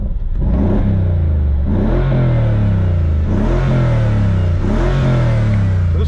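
A Mercedes-AMG G63's 5.5-liter supercharged V8 revs loudly up close in three quick blips, each rising and falling back to a steady idle, with no talking.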